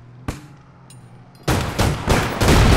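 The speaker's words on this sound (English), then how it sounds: "I laid four full bursts on him, he didn't die" Rapid automatic gunfire bursts from the online shooter APB Reloaded: one sharp shot early, then a long loud stretch of dense, overlapping bursts that swell in pulses toward the end, with no talking.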